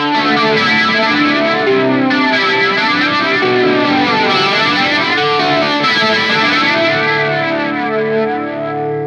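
Sustained electric guitar chords through a PRS Wind Through The Trees pedal with its highs control adjusted, thick and shimmering with distortion and chorus, playing steadily throughout with no talking.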